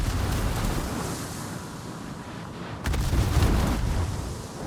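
Distant rumbling shell explosions and enemy gunfire in a naval warship game, a steady low roar of blasts with a heavier impact near the middle, no talking.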